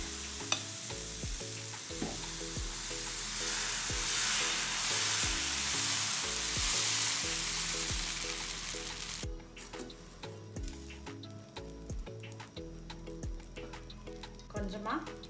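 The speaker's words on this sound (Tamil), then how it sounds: "நம்ம தோசை ஊற்றி பார்க்கலாம்." Black rice dosa batter poured onto a hot pan, a loud broad sizzle that fades and drops off partway through, with background music playing under it.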